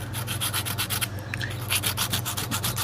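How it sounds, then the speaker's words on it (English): Steady rhythmic rubbing strokes of sandpaper on a sculpted mask, worked along the neck edge, close and continuous with no talking. "I just kind of line it with the neck and start sanding"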